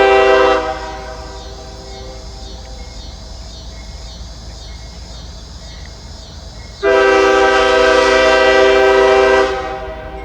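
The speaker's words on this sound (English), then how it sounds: "Looks like we got another coal train." A CSX coal train sounds its horn at Kenova, long loud blasts at the start and again near the end, with rumbling rail noise between them and no talk.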